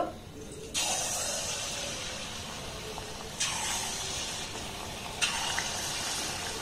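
Palm fruit pitha batter dropped in small portions into medium-hot oil, each addition setting off a sudden loud hiss that swells and settles into a steady bubbling sizzle, repeated three times close by.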